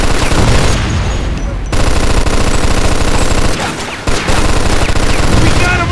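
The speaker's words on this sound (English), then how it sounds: "Stop shooting that fucking thing. I'm going deaf over here." Sustained automatic gunfire from a Mafia II shootout at an upstairs window, loud and nearly continuous with rapid bursts and brief dips, dense and close throughout.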